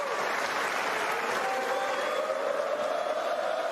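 Sustained applause from a snooker audience celebrating a historic final-winning century, a dense steady wash of clapping throughout with no speech over it.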